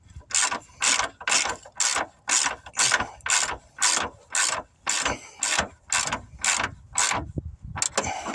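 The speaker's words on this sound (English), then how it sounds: "Cracked it loose with the half drive." A half-inch drive ratchet clicks in steady repeated bursts, about a dozen even strokes, while loosening a bolt on a 2006 Mustang during a lower control arm install; close, loud and alone with no talking.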